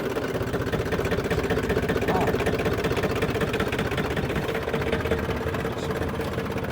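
A John Deere machine's engine runs steadily with a fast rhythmic knocking beat while its hydraulic lift raises a heavy load on the back, a constant, close, mid-pitched mechanical drone.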